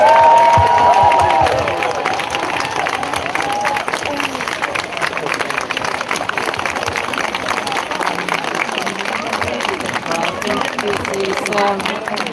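Outdoor rally crowd against hunting gives a round of applause and cheers for the speakers, a loud burst at first that settles into steady clapping and crowd hubbub with voices throughout.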